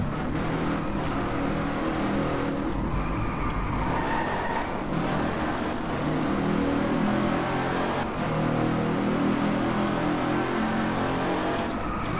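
Wombat Typhoon race car in DriveClub, driven in the rain, its engine revving and roaring continuously up close with shifting pitch as it accelerates, a dense, steady mechanical drone throughout.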